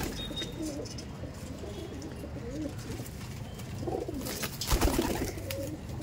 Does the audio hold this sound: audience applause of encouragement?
no